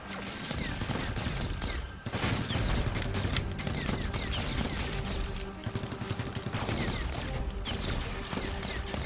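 Pistol gunfire in the Guardians of Orion game: a dense, continuous stream of rapid shots with clattering game effects, steady and loud throughout the whole stretch, with little pause.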